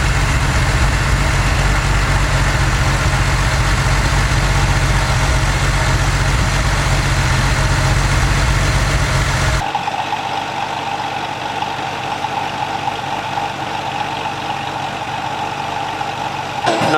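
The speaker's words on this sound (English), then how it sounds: "You only tend to get that sound from the air-cooled Porsches." A 1996 air-cooled Porsche idles at a classic car show, its engine giving a steady, throbbing rumble that sounds close and strong at first, then abruptly drops to a thinner, quieter idle for the remaining seconds.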